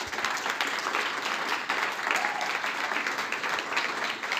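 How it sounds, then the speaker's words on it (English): A crowd applauds an event team at an animation festival talk, steady dense clapping filling the room continuously and fairly loud throughout. "So a big applause to our team."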